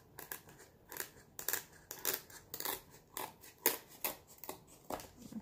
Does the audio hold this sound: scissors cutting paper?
yes